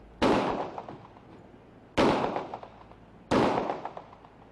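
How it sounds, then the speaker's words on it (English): Three sharp, loud gunshots from a .40 caliber pistol fired into a metal plate, each crack followed by a short ringing decay, spaced roughly a second and a half apart. "See for yourself as the officer fires the weapon."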